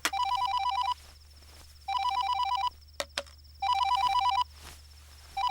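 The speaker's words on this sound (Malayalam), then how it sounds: "എടിയാ ഫോൺ എടുക്ക്." A telephone rings indoors at home in a repeating electronic trill: four bursts of about a second each, separated by short gaps, loud and close. A couple of sharp knocks come between the bursts.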